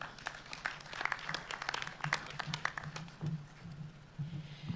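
A school event audience applauds a speaker, dense scattered clapping that holds steady and fairly distant, with no speech.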